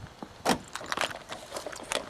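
Car keys for a Suburban jangle close by in a series of short bright metallic rattles over about two seconds, with no talking.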